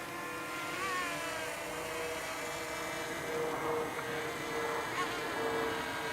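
DJI Mini SE drone flying over an open area in Fort Mill and coming in to land: a steady, faint, high insect-like whine of small propellers that holds constant with slight wavering pitch throughout.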